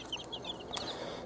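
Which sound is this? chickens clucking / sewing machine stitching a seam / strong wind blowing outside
chickens clucking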